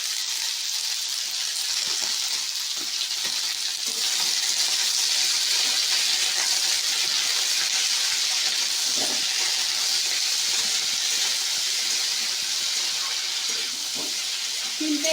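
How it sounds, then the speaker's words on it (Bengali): Flat beans seasoned with salt and turmeric fry in a pan, producing a continuous close sizzle and hiss with faint scattered crackles, steady throughout and free of talk. "শিমটা একটু ভাজা ভাজা করে তারপর ঢেকে দেব।"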